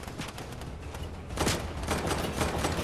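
Gunfire crackles from several players shooting in a video game, dense overlapping bursts that keep going throughout, with a louder cluster of shots near the middle, close and continuous, no voices.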